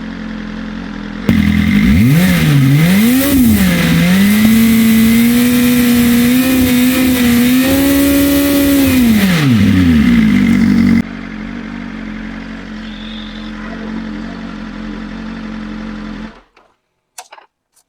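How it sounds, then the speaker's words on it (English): A BMW M1000RR superbike with an aftermarket exhaust revs hard and alone: a rising and falling engine note held high for several seconds, then dropping back to a steady rumbling idle before cutting off. "Let's rev the motorcycle up."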